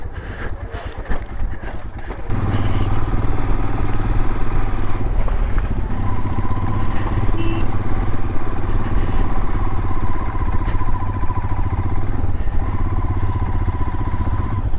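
A motorcycle engine runs steadily and loudly up close after a softer start, with wind buffeting the microphone on a road near Chushul, a border village.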